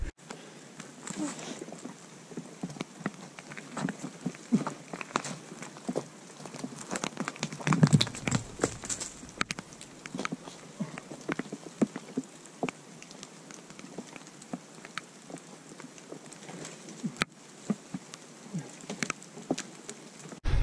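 Heavy rain pattering on a steep rocky hiking trail in the Blue Mountains, Australia, with wind picking up; a steady, fairly faint wash of droplets and gusts with occasional brief louder spatters and movement noises.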